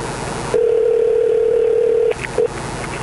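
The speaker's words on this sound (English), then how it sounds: "Let's make another phone call here." Telephone tone during call setup on a radio show: a steady electronic beep held for about a second and a half, then a short second beep after a brief gap, loud and clear with no voices.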